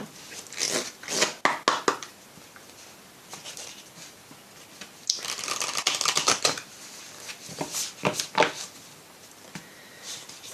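Oracle cards are shuffled in loose, irregular bursts of riffling and sliding, with crisp close flicks clustered early, again around the middle and near the end, and quiet pauses between.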